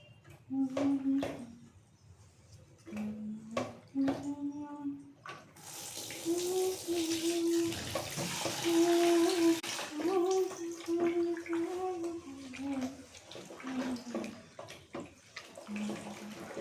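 Clothes being washed by hand in a large tub of water: sloshing, splashing and wringing sounds, strongest in the middle stretch, with a voice and a few other noises heard intermittently, especially at the start.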